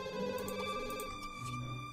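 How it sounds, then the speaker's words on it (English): Telephone ringing in The Sims 2, a steady electronic ringtone with layered tones sounding continuously and fairly loud over game background audio, with no talking. "There's the phone ringing, and there's a phone upstairs."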